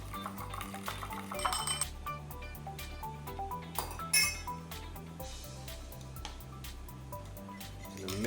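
A whisk or spoon mixing eggs and food coloring in a bowl: rapid repeated light clinks against glass, close and steady, over a quiet rhythmic background of music.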